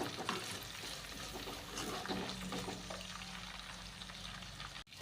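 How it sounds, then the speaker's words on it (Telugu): Onion and green chilli pieces sizzle steadily in hot oil in a pan for a dried-fish and egg curry, a continuous close fry with no voices. "పచ్చిమిరకాయ ముక్కలు ఉల్లిపాయ ముక్కలు వేసుకొని ఇవి కూడా కొంచెం ఎర్రగొచ్చేంత వరకు ఫ్రై చేసుకోవాలి"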